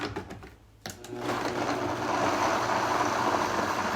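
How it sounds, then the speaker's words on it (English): A blender blending a health drink whirs steadily after a brief start-stop, the motor grinding continuously at close range with no talking. "Okay, so we're just gonna blend this."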